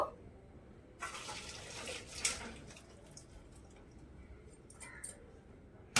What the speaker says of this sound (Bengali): এবারে গ্যাসের আঁচ থেকে নামিয়ে এক্সট্রা জলটা একটু ঝরিয়ে নেব